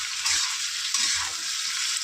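Chopped onions frying in a wok for an egg and soybean curry, with a steady loud hiss of hot oil and soft scraping of a stirring spoon throughout, no voices.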